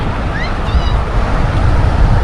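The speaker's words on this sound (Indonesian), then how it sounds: "Ini adalah Laut Merah yang ada di kota Jeddah" Red Sea waves wash ashore at the floating mosque in Jeddah, a continuous loud rushing surf with wind buffeting the microphone and a faint distant high call.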